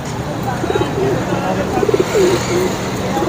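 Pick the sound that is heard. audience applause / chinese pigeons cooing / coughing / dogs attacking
chinese pigeons cooing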